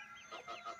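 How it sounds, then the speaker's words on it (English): Short, soft clucking from roosters, a few quick murmuring calls overlapping at close range with no talking. "Free roosters are in here."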